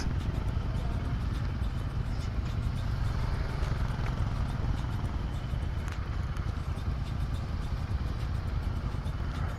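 Several motorcycles of a Goa motorcycle club idle and rumble together while lining up before a Sunday group ride, a steady dense engine drone with no clear talk throughout.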